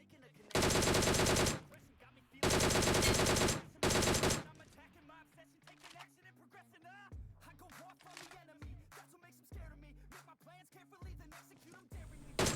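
Gunfire in a BGMI game fight: three loud bursts of rapid automatic fire, followed by quieter in-game clatter and distant shots.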